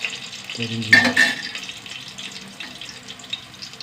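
Cinnamon, cardamom, cloves and fennel seeds dropped into hot oil burst into a sudden loud crackling hiss that quickly fades to a softer, lingering sizzle.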